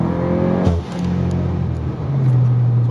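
Tuned Seat Leon 2.0 TFSI tuned to 450 horsepower accelerating, a close, loud engine drone that dips briefly, then settles into a steady low hum with no talking.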